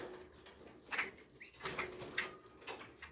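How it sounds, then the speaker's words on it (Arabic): Iraqi bulbuls kept in an indoor breeding setup, giving short, bright chirping calls in several quick bursts, fairly faint against a quiet background. "هاي البلابل العراقية الأصيلة"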